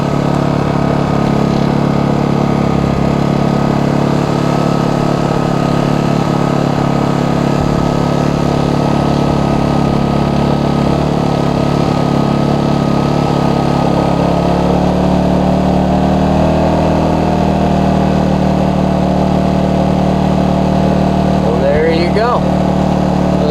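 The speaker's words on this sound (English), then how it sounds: "Let's see if we can charge it with our Whisper Quiet generator." A Whisper Quiet portable generator running steadily, a continuous droning engine hum under talking for the whole stretch.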